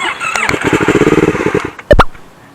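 A big bike motorcycle ridden by a learner pulls away close by: a rapid pulsing engine putter that builds, then a brief loud burst near the end.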